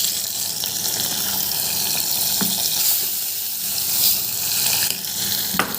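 A tempering of fenugreek and cumin fried golden in hot oil for spinach dal gives a steady, bright sizzle and hiss up close, with no voices.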